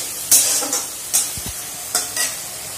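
Spices cooked down with ginger and garlic in a pan give a soft background sizzle, broken by several distinct scraping stir strokes and a brief low knock of the utensil against the pan.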